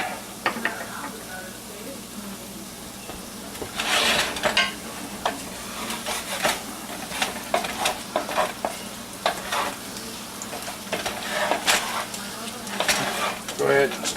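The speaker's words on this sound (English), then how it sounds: "Go ahead and stir them up." Potatoes and sausage sizzle and fry steadily in a pan, with scattered scrapes and knocks of a spoon stirring through them and brief bursts of clatter; a faint voice speaks now and then.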